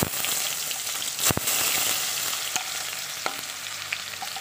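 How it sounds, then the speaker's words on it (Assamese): Onion frying in hot oil in a kadai for a fish curry, a dense steady sizzle close up, with a few sharp clinks and scrapes of stirring. "মোৰ তেলখিনি গৰম হ'ল এতিয়া মই পিঁয়াজ দি ভাজি ল'ম"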